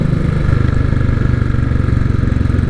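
Royal Enfield 535 Continental GT motorcycle engine running with a loud, steady low thumping pulse that stays even throughout, close by, with no talking.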